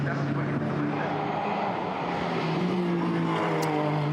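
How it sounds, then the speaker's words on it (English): A Maserati GranTurismo MC GT4 race car engine drones continuously during GT4 European Series qualifying at Brands Hatch, its tone rising steadily at a moderate distance. "It does sound great, that Maserati Gran Turismo MC GT4 trim."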